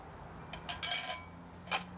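A lid is set onto a container to smother a small fire during a combustion demonstration, giving a few short, light metallic clinks and scrapes close by, then a last brief clink after a pause.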